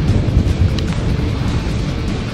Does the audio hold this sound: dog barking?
no